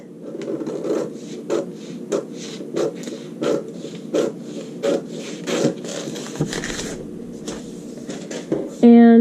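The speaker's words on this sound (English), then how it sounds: "Let me cut out my waist." Scissors cutting through a paper sewing pattern, a series of short rasping snips in a steady rhythm, close and fairly loud, with a sharper clack at the very end.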